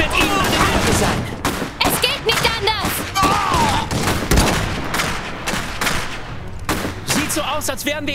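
Rapid bursts of gunfire in Iron Harvest crackle almost continuously, with shouted voices over the shooting and loud thumps scattered throughout.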